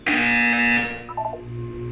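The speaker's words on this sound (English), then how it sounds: "You will hear a buzzer." A loud, steady electronic buzzer blares in Portal 2, holding for almost a second before it cuts off and a few short tones follow, with no talking.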